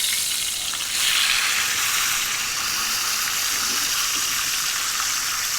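A tomahawk steak sears in a hot pan, giving a loud, continuous sizzle with a bright crackling hiss that holds steady throughout and no talking.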